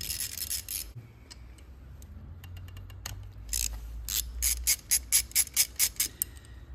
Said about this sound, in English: So stage one is to loosen off your oil cooler.